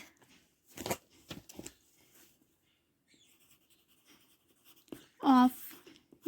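Marker or chalk strokes on a classroom board during a biology lesson, a few short scratchy bursts with quiet gaps, followed by a brief spoken word near the end.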